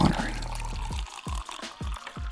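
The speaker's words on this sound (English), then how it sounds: "She's about to pour water in." Water poured into a cup: a short run of liquid filling, then several separate splashing glugs, close up and fairly loud, with voices talking briefly over the start.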